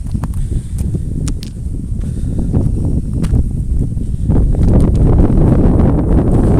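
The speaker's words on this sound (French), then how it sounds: "c'est vraiment pénible, ce vent. Enfin, c'est pas pénible pour moi, mais c'est pénible pour le son" Heavy low rumbling buffeting of wind hitting a microphone, continuous and loud, growing stronger toward the end, with faint thuds mixed in.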